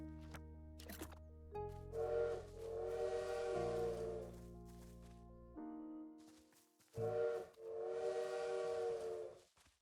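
In the video game Little Witch in the Woods, a bird mimics a train whistle: two long, tonal whistle blasts separated by a short gap, rising clearly over the game's background music.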